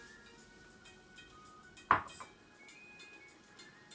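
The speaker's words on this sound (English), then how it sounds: "So I'm going to take it out from the oven now." A metal baking tray of coconut turnovers is lifted out of a home oven with one sharp clink near the middle, and a faint ringing and quiet kitchen ambience fill the rest.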